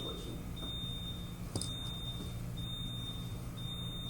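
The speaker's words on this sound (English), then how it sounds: "Somebody set off the alarm" Alarm going off in a county commissioners' meeting room: a repeated high electronic beep in short bursts about once per second, steady and moderately loud over room noise and a low hum.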